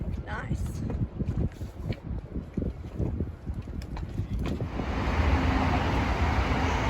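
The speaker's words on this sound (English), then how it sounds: "The wind's blowing more from the shore here." Wind gusts roar across the microphone aboard a sailing boat as an offshore breeze blows from the shore, growing steadier and louder toward the end, with faint voices underneath.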